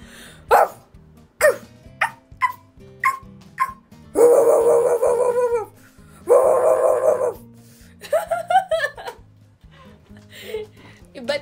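A human voice imitates a dog during a party dare, giving loud, close barks and yips in short bursts with two longer howling stretches, against steady background noise.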